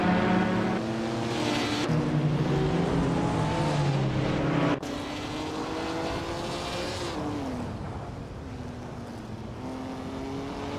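A vintage 1955 Maserati 300S race car on the Vila Real track in a racing game, its engine droning loudly with rising and falling harmonic pitch through gear changes, plus a sharp shift cut near the middle.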